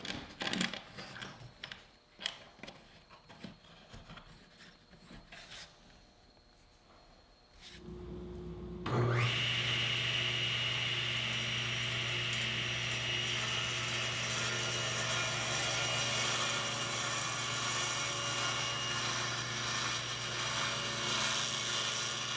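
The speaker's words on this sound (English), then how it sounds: "by hanging this section of the board off of the edge of the jig, I'll be able to cut that away." A table saw or power saw starts up and runs steadily as a knot is cut off a wooden board held on a taper jig, preceded by clicks and handling noises, then a loud continuous whine and hum.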